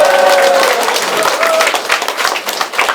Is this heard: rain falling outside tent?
no